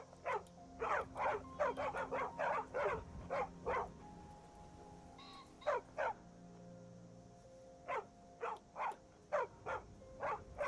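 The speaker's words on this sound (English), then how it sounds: "That's a dog." A dog in a video game barks in repeated bursts, quick runs of sharp yips followed by a pause and then more spaced barks, fairly close over a quiet game-ambience hum.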